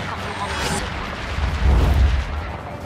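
Gunfire and explosions from the video game Just Cause 3 rumble on, with booms swelling midway through a dense, loud wash of noise.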